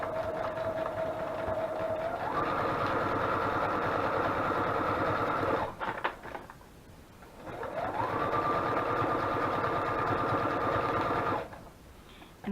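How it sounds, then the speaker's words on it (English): A sewing machine stitching a lace doily onto a junk journal page runs in two long steady bursts of rapid mechanical whirring, with a brief pause and fabric shuffling between them. "Just kind of sew it down the right side."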